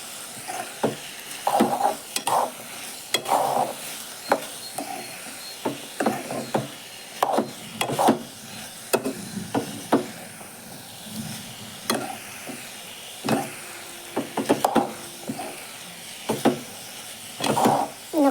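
A wooden spoon stirs spices with a little coriander powder in a pan, repeated scraping and knocking strokes in an irregular rhythm with faint frying beneath, close and without speech.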